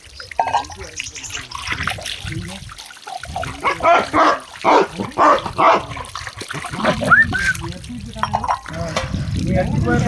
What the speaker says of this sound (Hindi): भौंकने की आवाज़ भी आ रही होगी।